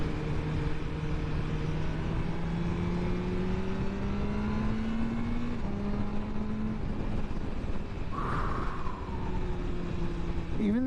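A 2023 BMW M1000R motorcycle engine under steady load with gentle throttle twists, its pitch rising and falling slightly over continuous loud road and wind roar, ending in a brief sharper rev.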